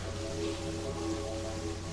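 Steady rain falls in the Terraria video game, a continuous even hiss of drops with no talk over it.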